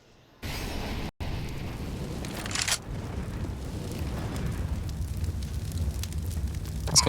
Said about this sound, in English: That's got an incendiary